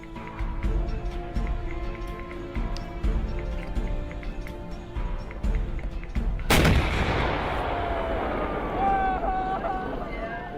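Artillery rounds firing during a military exercise with a tank commander; a loud broadband blast lands midway, trailing into a long rumbling echo, over a steady engine-like drone and wind.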